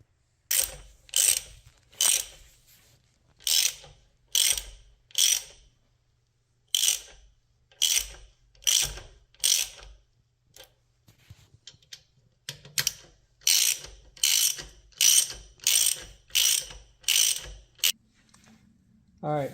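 Wrench ratcheting on bolts during an R&G crash bar installation on a Ducati V2 Streetfighter or Panigale: close, loud bursts of clicking strokes in a steady rhythm, a pause midway, then another quicker run of ratchet clicks, with no talk.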